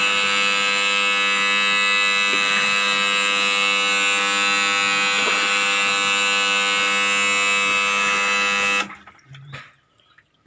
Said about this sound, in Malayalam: ഇത് ഓഫാകുമ്പോൾ ബസർ ഓണാവും.